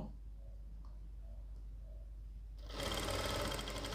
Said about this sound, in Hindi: अब यहाँ पर हम सिलाई लगाएंगे तो आप देख रहे हैं हम एक पैर के मार्जन से सिलाई लगा रहे हैं